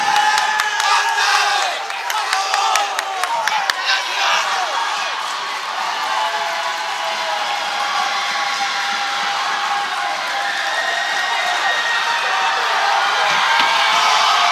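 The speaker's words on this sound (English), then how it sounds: "Now we got the crowd going on. Here we go. Even the parents are joining in." Cheers and shouts rise from the stands at a Dartmouth High School volleyball game against ORR, with the crowd and parents joining in. The din holds steady and fairly loud throughout, with some sharp claps or thumps early on.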